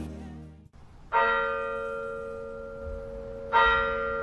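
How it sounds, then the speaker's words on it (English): Church bells ringing for a wedding: two bright, sustained metallic strikes, each decaying slowly, clear and fairly close with no voices. "The wedding bell is ringing!"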